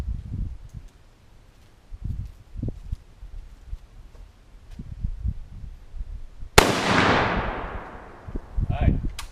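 A single loud gunshot cracks in a backyard, fired at an air conditioner, most likely from a Mosin Nagant rifle, and leaves a long echoing decay. Before it, someone talks quietly amid faint background noise and small knocks.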